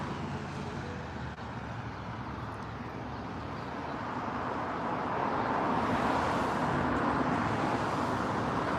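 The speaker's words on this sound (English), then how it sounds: "this road next to me where you hear the cars going by" Cars pass on a nearby road in Stuart, Florida, in a continuous wash of traffic noise, swelling louder toward the end as vehicles go by.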